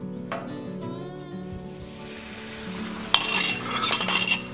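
Eggs laid thin on a Blackstone griddle begin sizzling in a sudden loud burst late on, after a quieter stretch of clinks and low humming.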